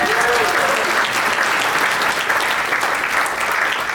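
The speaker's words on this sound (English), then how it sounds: "Clap it up for my mom." Sustained audience applause fills the room for a mother in the crowd at a live stand-up comedy show, steady dense clapping throughout with a few voices faintly mixed in.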